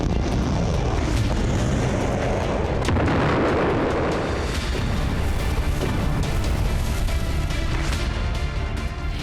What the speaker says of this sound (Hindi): आसमान से मौत बरसाती मिसाइलें और दूर दूर तक धमाके की गूंज।